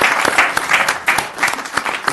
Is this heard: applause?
yes